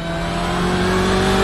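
A BMW 120 race car engine in iRacing at Spa revs hard and loud with a steady, harmonic-rich drone that climbs slightly over a short burst, close and alone.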